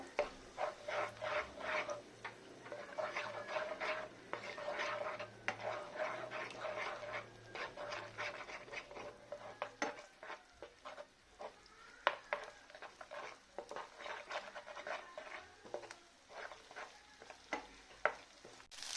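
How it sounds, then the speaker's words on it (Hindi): Egg and sprouts stirred in a pan over high flame, a utensil scraping in repeated strokes over a soft steady sizzle, close and fairly quiet. "तो मैं इसको चला लूंगी अच्छे से।"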